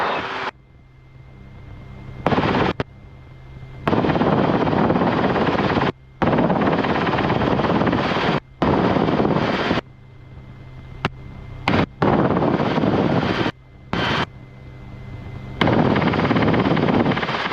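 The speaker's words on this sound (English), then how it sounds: "This is what helicopters are designed to do." A Rotorway helicopter's loud, rapid rotor thumping and turbine whine fill the air up close, broken by several abrupt cuts and gaps.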